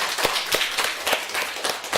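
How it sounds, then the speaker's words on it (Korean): A few people clap in a Korean church Sunday worship service, about a handful of sharp, uneven claps, thin and somewhat distant over a noisy background hiss. "박수 한번 좀 주시죠"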